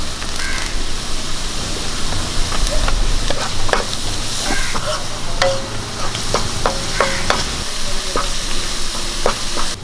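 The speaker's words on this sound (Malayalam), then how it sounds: "ഒരു മൂന്നാലല്ലി വെളുത്തുള്ളി ചതച്ചതും ഒരു ചെറിയ പീസ് ഇഞ്ചി ചതച്ചതും കൂടി ഇട്ട് കൊടുക്കാം" Crushed garlic, ginger and curry leaves sizzle loudly in hot oil in a pan for kadala thoran. A dense, steady crackle fills the clip, close up, with occasional clinks of a spoon stirring.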